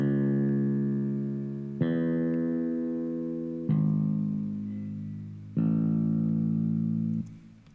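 Four plucked acoustic-style bass notes with the low end cut by an equalizer, each ringing and slowly decaying, thin and lacking deep low end, played alone.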